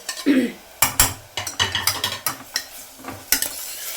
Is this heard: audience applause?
no